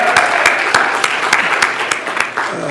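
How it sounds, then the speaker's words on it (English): A crowd applauds at a 50th anniversary celebration, with dense clapping and a few sharper, louder claps standing out nearby, steady throughout. "Give Frank a round of applause."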